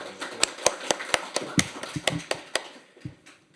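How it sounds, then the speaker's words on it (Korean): An audience at a panel discussion on AI and data legislation gives scattered applause to welcome a lawmaker to the stage, irregular individual claps of varying loudness in a room, thinning out toward the end. "큰 박수로 맞이해 주시기 바랍니다"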